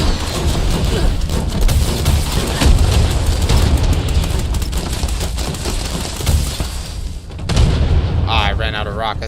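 Repeated booming missile-launcher blasts fire in Fallout 76, dense and loud for most of the stretch, with a short break near the end before more rumbling, mixed with game noise and a speaking voice.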